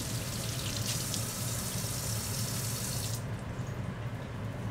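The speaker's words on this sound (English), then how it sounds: "Burning under some cold water." Cold tap water runs steadily over hot, freshly cooked Brussels sprouts in a home kitchen, a continuous close hiss and splash from a faucet that softens slightly near the end, with no talking.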